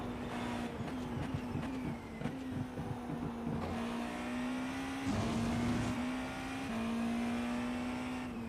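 Porsche GT3 race car engine in a Le Mans racing video game, a steady sustained drone with gear-shift pitch steps as it accelerates through the Porsche curves, continuous and loud with no talking.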